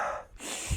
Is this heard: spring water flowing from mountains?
no